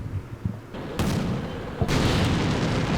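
Artillery and gunfire rumble through a Combat Mission Black Sea battle, a couple of deep booming blasts breaking over a dense, continuous low roar of distant firing.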